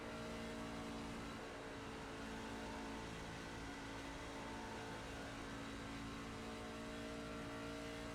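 A race truck engine held at full throttle on a simulated Texas oval in iRacing, a continuous high, even drone with steady tonal whine, loud and unbroken throughout, with no talk.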